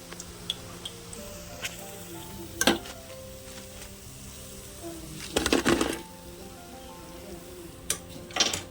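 Punugulu (bonda) batter frying in hot oil, a steady low sizzle broken by a few brief louder crackles and splutters as spoonfuls drop in, close by with no talking.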